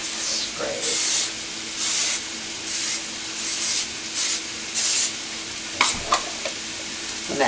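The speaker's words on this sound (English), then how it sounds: "They're starting to sizzle a little." Salmon cakes frying in a pan give off a close, hissing sizzle in repeated swells, with bursts of cooking spray cutting in at intervals.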